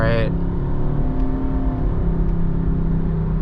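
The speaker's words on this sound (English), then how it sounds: "Engine is kind of loud. I'm not crazy about the sound of these Subaru Boxer engines." A 2013 Subaru Outback's 2.5-litre boxer engine drones steadily at close range while accelerating, a fairly loud, low rumbling hum that holds level throughout, with a voice briefly heard at the very start.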